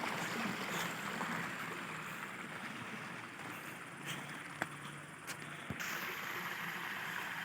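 Continuous broadband rush of a waterfall flowing and splashing, steady and fairly close, with no voices, in Azad Kashmir.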